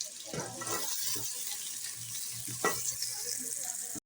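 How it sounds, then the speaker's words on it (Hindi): Onions fry in hot oil with a steady, continuous sizzle and crackle, occasionally stirred, at moderate volume with no talking. "ऑयल हमारा गर्म हो चुका है। अब हम प्याज ब्राउन कर लेंगे।"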